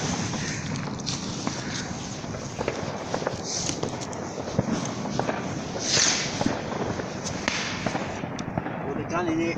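New Year's Eve fireworks in 2019 burst in a dense, continuous crackle of pops and bangs, with steady wind noise underneath throughout.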